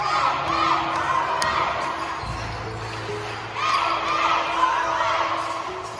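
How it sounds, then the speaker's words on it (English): Crowd and cheerleaders at a high school basketball game chanting and cheering in rhythm, spelling out a player's name, the mass of voices echoing through the gym with a swell partway through. "with the cheerleaders and crowd spelling his name in a chant"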